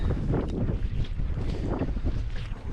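High wind buffeting a microphone on a boat at anchor, loud irregular low rumbling gusts with splashing water, no talking.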